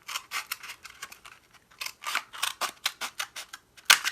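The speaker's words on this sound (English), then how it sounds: "I just cut it open on one end along that crease line" Scissors snipping through creased paper along the fold while crafting a leafy fall garland, a quick run of sharp crisp cuts close by with a short pause midway and one louder snip near the end.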